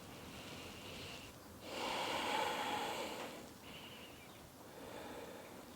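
Slow yoga breathing, with a long audible breath in and out followed by another softer breath, close and airy, no talking.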